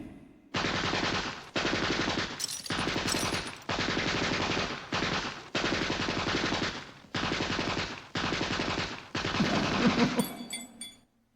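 Automatic gunfire sound effect in a radio drama, loud rapid bursts repeated in about eight long volleys with brief gaps, ending with a short crash of breaking glass as the lights are shot out.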